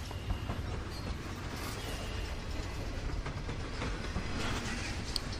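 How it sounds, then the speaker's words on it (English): A train rolls past on rails in the video game Life Is Strange, a continuous rumbling clatter with soft rhythmic clicks, moderately distant and steady throughout. "I love trains."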